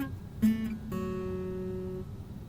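An acoustic guitar playing a riff, with a few plucked notes and an open string ringing out and sustaining, fairly quiet and close.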